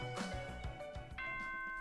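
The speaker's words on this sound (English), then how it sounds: "Ding dong bing bong." A ding-dong announcement chime in the video game Danganronpa 2: Goodbye Despair, with bright bell-like tones that step in sequence and then hold a sustained ringing note.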